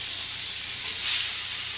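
Steady frying sizzle of bananas, a soft hiss from a hot pan that swells slightly near the end, with no voices.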